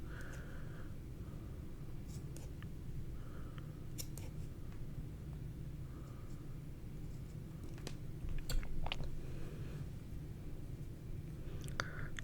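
Scissors snip through felt in a string of soft, crisp cuts spread irregularly over a low steady background hum, close and quiet, with a small cluster of snips near the end; no one talks.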